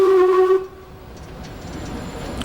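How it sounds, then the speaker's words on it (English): A loud train horn blares briefly in Switzerland, then gives way to the low rumble of a train rolling along the rails. "here we will take the train back to Lucerne"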